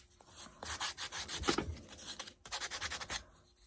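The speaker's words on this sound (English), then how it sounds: "Yeah, I'm taking my finger sander," A small finger sander runs along the edges of wooden bunny feet, giving a close, steady rasping rub in rhythmic strokes, with a brief pause partway through before the sanding resumes.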